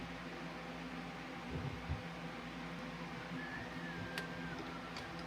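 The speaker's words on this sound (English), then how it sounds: "Sorry about the fan noise" A steady fan hums at low level in the background near a Tesla Cybertruck being fitted with a yoke steering wheel in hot weather. The broadband whir runs continuously with a faint tick or two and no talking.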